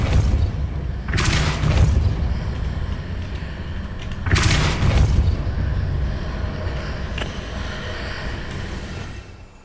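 Two heavy whooshing blasts of the Depulso spell in Hogwarts Legacy, each a sharp boom that fades out, spaced a couple of seconds apart, followed by a quieter swishing effect.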